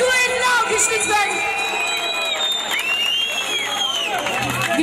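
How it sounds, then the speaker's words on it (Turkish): An audience at a village concert in Kazankaya, Turkey applauds, cheers and whoops, a lively crowd roar with shouts and whistles heard fairly close. "Bir alkış kuvvetli alkış lütfen."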